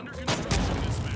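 Light machine gun fire in the video game The Finals: a couple of quick, loud gunshot bursts under a talking voice.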